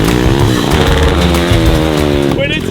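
A racing lawn mower's engine revs hard and loud, very close, with a rough, buzzing harmonic whine that holds high and shifts slightly as the machine pulls wheelies.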